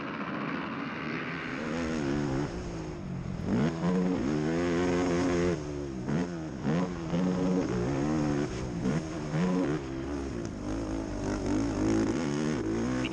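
High-revving ATV racing engines strain up a slippery uphill at the Unadilla ATV Nationals motocross track, a steady loud drone with repeated rising and falling rev sweeps as riders work the throttle out of corners.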